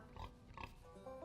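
A boar in the video game South of Midnight gives a few short, rough grunts in quick succession, close and fairly quiet, with no talking over them.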